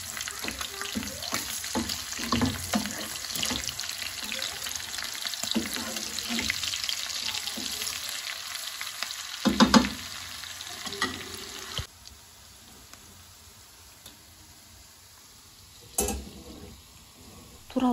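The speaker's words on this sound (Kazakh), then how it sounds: "Майымыз қуырылғаннан кейін үстіне 1-2 жуамызды салып, 1 минуттай ғана қуыратын боламыз." Onions fry in rendered fat for Kazakh kuyrdak with a steady, close sizzle and scraping stirs that drop off sharply partway through, leaving a low hiss and a few later clatters.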